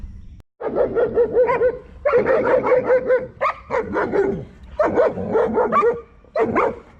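Several dogs bark and yip excitedly at a possum caught in a trap, in repeated bursts, loud and close, with whiny high-pitched yelps between short pauses.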